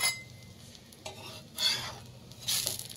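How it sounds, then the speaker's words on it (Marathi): A sandwich frying crisp in a pan at home gives a soft sizzle under light scraping and stirring, with a few brief louder bursts of crackle. "मस्त फ्राय करून घेऊ आता आपण"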